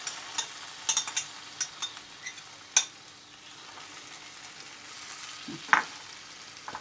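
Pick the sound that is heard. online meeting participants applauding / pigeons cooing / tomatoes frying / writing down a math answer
tomatoes frying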